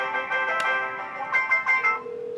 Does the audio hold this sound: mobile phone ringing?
yes